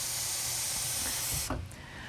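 Water pouring steadily into a blender jar, a broad hissing stream heard up close and alone for about a second and a half, then stopping abruptly with a few splashy drips.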